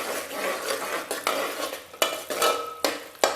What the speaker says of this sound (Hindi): मैं ये आपके सामने इतना घी डाल रही हूँ इसमें, और इसे थोड़ा सा मिक्स करके